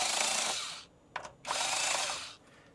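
A cordless drill on a low torque setting drives screws into a Ford F-Series truck instrument cluster in two bursts of whirring separated by a short ratcheting clutch click, close and moderately loud.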